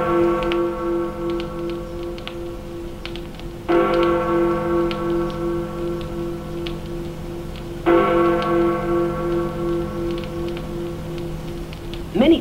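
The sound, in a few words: Big Ben clock bell chiming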